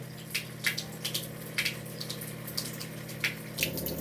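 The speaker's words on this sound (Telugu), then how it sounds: "చూడండి, ఈ విధంగా డ్రైన్ చేసేయాలి ఓ 5 లీటర్ల వరకు" Water drains from the outlet of an Enagic Kangen water machine into a sink during cleaning, a low steady trickling flow with soft splashes recurring every half second or so.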